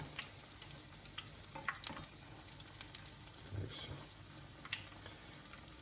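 Onion bhajis fry gently in a pan of oil, a soft steady sizzle with faint scattered crackles and small pops, quiet and close, with no talking.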